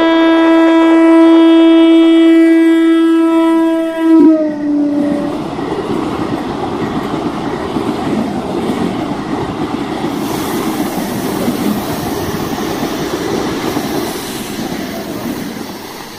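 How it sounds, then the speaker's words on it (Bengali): A train horn blares loudly for about four seconds, then the train runs on with a steady rumbling roar and faint rhythmic rattling of wagons that slowly eases toward the end. "ট্রেন ছুটে চলেছে একটি অন্ধকার জগতের মধ্যে দিয়ে"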